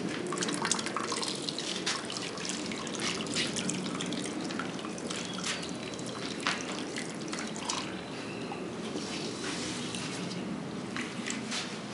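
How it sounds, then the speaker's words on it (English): Water poured over clay soil to wash it trickles and drips steadily, with many quick close drips and splashes in a continuous wet patter. "you pour water and wash it till you get clear water below"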